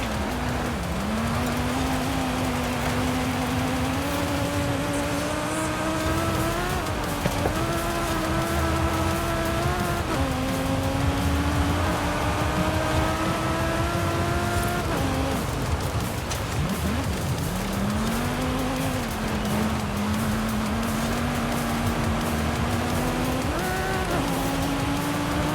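Racing cars in Forza Horizon 5, a steady close engine drone rising and falling through gear shifts, continuous and loud with a faint wash of road noise and no talking.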